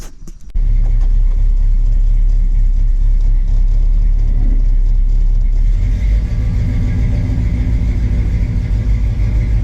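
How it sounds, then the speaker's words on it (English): An old GMC truck driving on a country road, heard from inside the cab as a loud, steady low engine rumble that starts abruptly and holds constant throughout. "go ahead and go for a drive, get something, let you guys kind of see what it's like to drive this thing around out here in the country"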